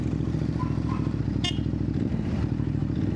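Vespa 946 Christian Dior scooter riding off-road, its engine droning steadily and close throughout with a brief higher clatter midway.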